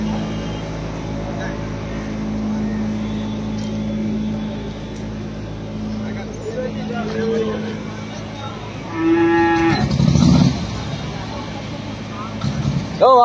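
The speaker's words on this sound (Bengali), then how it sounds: "সব ষাঁড় তুলছে" Bulls low at a busy cattle market as they are loaded, a couple of deep moos rising through steady crowd chatter and passing vehicle noise, with people talking throughout.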